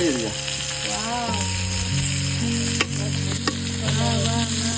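Konkan-style chicken kaul fries in a pan with a close, constant sizzle and occasional stirring knocks, while music plays over it.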